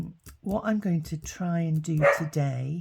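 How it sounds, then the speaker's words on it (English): A pet dog barks and yips in a home crafting space while someone talks continuously, the barks mixed into and partly under her speech. "oh, excuse my dog barking"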